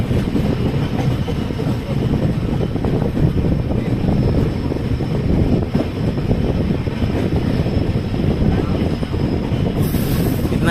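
The Dehradun Kathgodam Express rumbles along at Bilaspur Road station with loud, continuous rolling rail noise and clattering wheels, ending in a brief high squeal.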